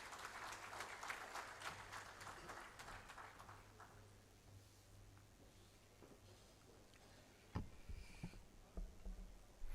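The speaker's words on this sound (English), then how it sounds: "Can I have a round of applause" A conference audience applauds with a faint, distant patter of many hands that fades over several seconds, followed by a few isolated knocks and rustles.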